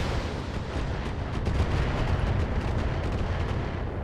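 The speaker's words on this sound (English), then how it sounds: "More missiles on target." A dense, continuous rumble of missile launches and impacts rolls on in the Battletech video game, loud and unbroken from start to finish without talking.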